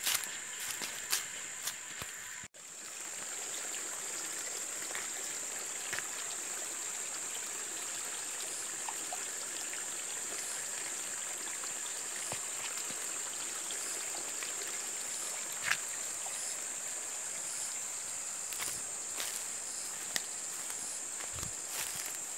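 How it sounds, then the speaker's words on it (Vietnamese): A forest stream flows steadily in the distance, a soft continuous wash of water with a few faint clicks and footsteps, and insects whine in the background. "Đây suối tận dưới này."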